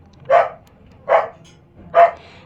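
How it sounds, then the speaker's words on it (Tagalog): A dog barks three times in a steady, evenly spaced rhythm, each bark loud, close and sharp, with quiet between the barks and no voices. "yung aso namin maingay, tahol ng tahol"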